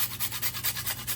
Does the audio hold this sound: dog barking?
no